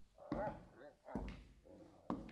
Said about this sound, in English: Angry dog.